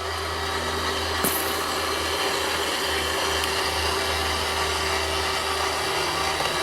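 A floor machine fitted with a white pad hums steadily while spreading concrete sealer across a badly dusting concrete floor, a constant motor drone with a low hum running evenly from start to finish.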